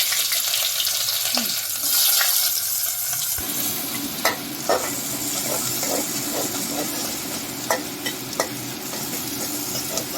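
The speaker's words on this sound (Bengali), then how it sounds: "পেঁয়াজটা ভেজে নেবো এবার লাল লাল করে।" Chopped onions and whole cumin fry in hot oil for a mutton curry, a continuous bright sizzle that jumps in loudness a few seconds in, punctuated by sharp clicks of a spoon stirring against the pan.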